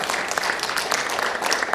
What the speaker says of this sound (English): You can give a round of applause for that also.